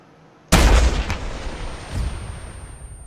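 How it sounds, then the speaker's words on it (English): A rocket launcher fires during army infantry training, one sudden loud blast that cuts in sharply, followed by a rolling boom and a fainter distant thud of the impact as the echo dies away. "Backblast clear. Rocket, rocket, rocket."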